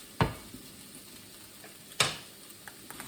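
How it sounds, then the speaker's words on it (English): Button mushrooms fry in a pan at a campsite while being stirred, with two distinct scraping knocks of a utensil and a few small ticks over a faint background sizzle. "Stir them around."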